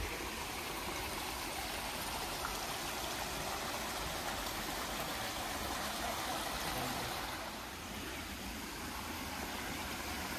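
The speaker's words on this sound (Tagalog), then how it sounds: "Ang ganda, may mga tubig pa oh. Natural na tubig oh." Water running steadily in a stream in Melbourne's Botanic Garden, a continuous soft rushing wash that stays faint and even with a brief dip near the end.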